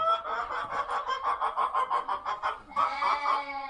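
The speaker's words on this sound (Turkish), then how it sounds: "burada bir tavuk varmış" A hen clucks in a rapid, rhythmic series of short calls, close by, ending in a longer drawn-out squawk.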